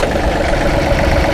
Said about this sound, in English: turning the key, making sure that our gear shift is in neutral, and then starting the tractor